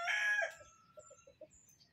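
A rooster lets out one loud, strained crow right at the start, then falls to a few soft, evenly spaced clucks in a quiet yard.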